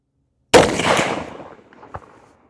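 A single loud close shot from a CVA Crossfire muzzleloader firing a 270 grain bullet over a 100 grain Firestick charge, with a sharp crack followed by a rumbling decay of about a second and a faint later echo.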